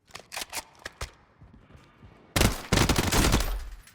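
A loadout weapon fires in the Warzone video game firing range: a few separate sharp shots open, then a loud, dense automatic burst rattles for over a second, close and dominant.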